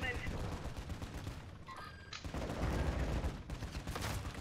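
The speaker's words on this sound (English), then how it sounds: "Oh, he's in this building, that's why he's shooting in here." Rapid bursts of gunfire in a Call of Duty: Modern Warfare II search-and-destroy match, loud and dense over several seconds with a short lull in the middle, while players talk over it.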